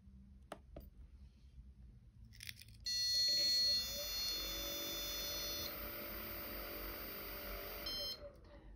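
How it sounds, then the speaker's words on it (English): A small electric motor, motor A on the front right, spins up in a rotation test, a sudden loud high whine starting partway through after a few clicks, then holding steady and easing slightly as it runs. "First, we're going to test motor A, which should be the front right."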